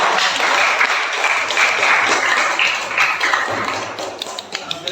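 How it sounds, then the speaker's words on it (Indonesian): A classroom audience applauds after a student group's presentation, close and lively hand clapping that starts dense and thins into scattered individual claps toward the end. "Diberikan tepuk tangan yang meriah."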